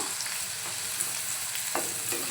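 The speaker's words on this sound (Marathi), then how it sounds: "छान परतवून घेऊया।" Red amaranth greens and chopped onion are sautéed in a pan with a steady, close sizzle and occasional soft stirring scrapes throughout.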